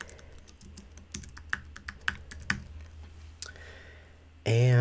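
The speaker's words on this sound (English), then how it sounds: "And I'm just going to type Merry Christmas." Keystrokes on a computer keyboard come as scattered, crisp clicks at an irregular pace, close and clear over a quiet room, ending in a brief louder hum.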